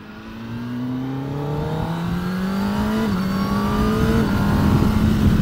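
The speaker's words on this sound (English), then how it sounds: "Oh, that is a silky smooth engine." A car engine revs steadily and climbs in pitch during a nighttime drive, smooth and continuous, close up, with one brief dip near the middle and no talk over it.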